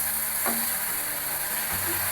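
Steady sizzling of chopped tomato frying with onions in a pan over a slow-to-medium flame, a constant close hiss with faint stirring scrapes.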